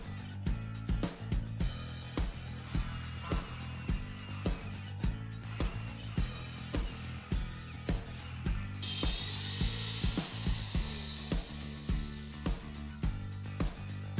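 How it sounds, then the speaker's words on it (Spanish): Thin drill bit boring holes for a rain-proof pergola, with a steady close grinding drone broken by a regular rhythmic knocking throughout, no talking. "Inicialmente perforo con una broca delgada y luego con una de las medidas del ancho del tornillo."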